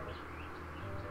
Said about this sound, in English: There's a bird outside.